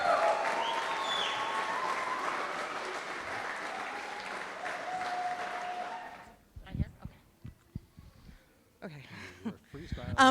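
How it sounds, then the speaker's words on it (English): Wedding guests applaud steadily for several seconds at a reception. The clapping then fades out and a voice begins talking into a microphone in a quieter room. "Give them a nice round of applause"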